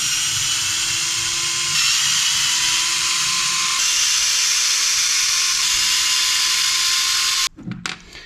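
Steady whirring drive runs for about seven seconds while the steering bell crank screws on a Traxxas Slash 2WD RC car are backed out, then stops, leaving a few light clicks and handling sounds.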